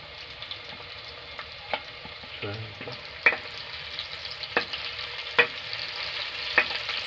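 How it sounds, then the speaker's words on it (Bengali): Chopped onions and black cumin fry in oil with a low, steady sizzle, broken by a few sharp scrapes and clinks of a stirring utensil at irregular intervals, with no speech. "সুন্দর করে পেঁয়াজ কুচিগুলো এবং কালো জিরা ভেজে নেব।"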